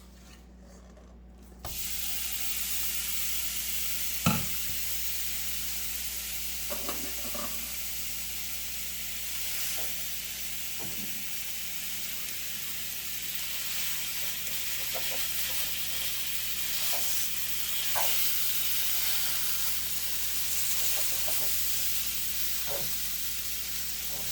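Ground beef sizzles in a tablespoon of oil in a hot pan, a steady close hiss that starts after a brief quieter moment, with scattered scraping and stirring clicks throughout.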